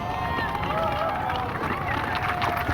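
A golf gallery at the par 3 16th of the 2009 Samsung World Championship final round reacts to a bunker shot with a steady, fairly loud murmur of applause and voices, while a commentator speaks over it.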